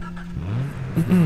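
In Far Cry 3, a car engine turns over and catches, building into rising revving whines that swell loudly in the closing moments.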